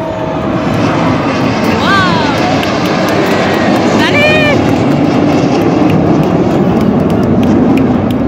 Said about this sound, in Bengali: লাল আর হলুদ রঙের বিমান